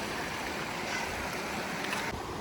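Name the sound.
mountain stream water crossing on the Pacific Crest Trail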